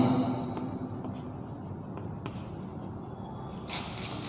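Chalk or a marker scratches a sentence onto a classroom board in short, irregular strokes, faint and close, with no voices over it.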